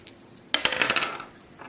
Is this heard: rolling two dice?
yes